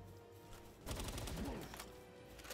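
Gunfire in the video game Palworld bursts out as a rapid volley of shots that lasts about a second, then fades into quieter game sounds.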